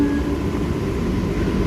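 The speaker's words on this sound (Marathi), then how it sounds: "समोर एक फास्ट लोकल ट्रेन अराईव्ह पण" A Mumbai fast local train rushes past a moving AC slow local near Jogeshwari, a steady loud rumble of wheels and carriages with a brief tonal whine at the start.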